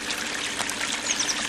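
Water trickles and pours out through holes cut in the support bucket of a homemade bucket sluice concentrator, a steady close splashing stream with no speech.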